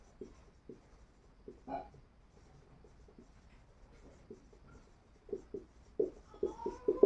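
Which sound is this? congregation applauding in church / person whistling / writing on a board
writing on a board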